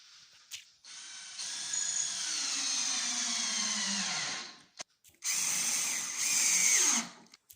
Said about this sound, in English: Before we put our second screw in, we're going to make sure we're all square